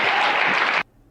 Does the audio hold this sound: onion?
no